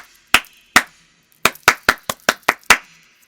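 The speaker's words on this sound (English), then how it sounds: "I'm gonna give you your applause." One person claps alone, close and crisp: two spaced claps, a pause, then a quicker run of about seven sharp claps that stops abruptly, with quiet between them.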